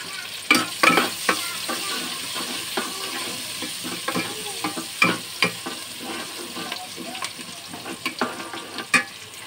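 Chicken with turmeric and spices fries in a pan for Chicken Angara, giving a steady soft sizzle broken by repeated scraping and clattering as it is stirred, at moderate volume with no voices.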